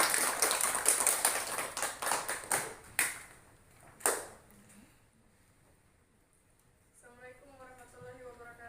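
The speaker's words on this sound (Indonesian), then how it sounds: "kita beri aplaus untuk kelompok 3" Classroom applause for a student discussion group, with many hands clapping in a quick burst that fades over about four seconds. A voice then begins speaking.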